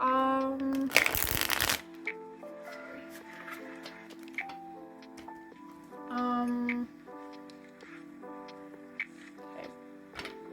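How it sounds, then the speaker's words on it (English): Tarot cards riffle and flick in short bursts between soft taps and clicks, with a faint tonal hum underneath, close by. "One last shuffle."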